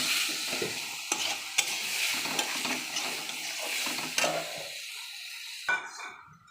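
Tomatoes frying in a pan with potatoes and bori for a Bengali tomato curry, giving a steady close sizzle broken by repeated scraping stirs, then a quieter pause near the end.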